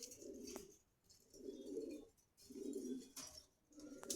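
Danish pigeons in a market cage at Khilgaon Meradia bazar in Dhaka coo in close, repeated throaty bursts, four rounds with short pauses between, with no voices.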